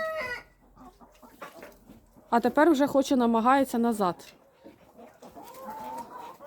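A white-tailed rooster clucks in a loud, drawn-out burst of cackling calls in a mixed poultry yard, with people talking before and after it.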